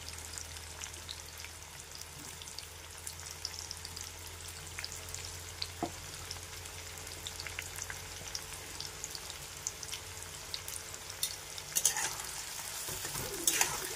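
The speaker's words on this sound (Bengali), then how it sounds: "পেঁয়াজটা ভাজা হতে থাকুক" Sliced onions frying in oil for prawn biryani; a quiet, continuous crackling sizzle with scattered small pops and a few soft clinks toward the end, no talking.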